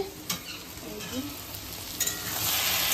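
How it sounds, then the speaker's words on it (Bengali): Spice paste with onion and potato fries for egg curry, a steady close sizzle running throughout with light stirring scrapes and occasional soft clinks from the pan. "মশলাটা এখন কষছে, মানে পেঁয়াজ আর আলুটা ভাজা হয়ে গেছে"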